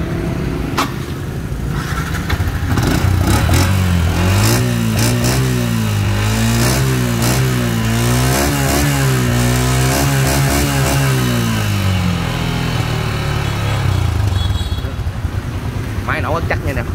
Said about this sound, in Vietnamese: Máy nổ rất chắc nha nè.